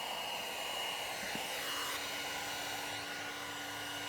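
A heat gun blows steadily while heating the seam of vinyl wrap on a Tesla Model 3 Highland trunk, a continuous airy hiss with a faint whine that holds at an even level, without speech.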